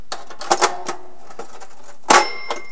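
A vintage cash register rings out two bright bell dings, the first around half a second in and a stronger one later, each with a metallic ringing decay, alongside light mechanical clicks in a quiet room.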